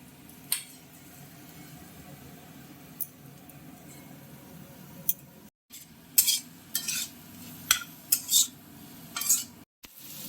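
Tomatoes going into a frying pan for Bengali dhaba-style egg tadka, stirred with a utensil over a low background sizzle, with sharp scraping and clinking of metal against the pan clustering in the second half.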